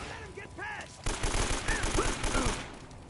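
Gunfire from the video game Uncharted: Drake's Fortune: dense, rapid bursts of shots start after a brief quiet opening and continue loudly to the end, with a few faint electronic game tones layered over them.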